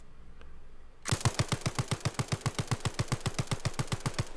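A Sterling submachine gun fires a sustained automatic burst in the video game Arma Reforger, its rapid, evenly spaced, fairly slow-cycling shots ringing out loud and close after a second of quiet, with no talking.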